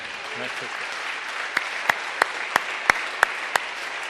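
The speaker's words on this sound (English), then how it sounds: "This is where you applaud" A keynote audience in Perugia claps steadily in a broad wash of applause, with a few sharper individual claps standing out near the end.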